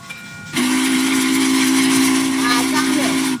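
Steam locomotive in a train driving video game, a loud steady steam whistle blasting continuously after a brief quiet start, over hissing steam and rolling rail noise.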